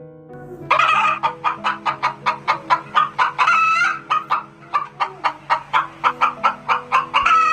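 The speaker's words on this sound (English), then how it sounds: "Hen." A hen clucks repeatedly in quick bursts, loud and close, with other fowl calling faintly in the background.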